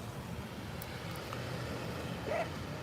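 A single brief dog bark rises near the end over a constant low rumble of road traffic, faint and somewhat distant.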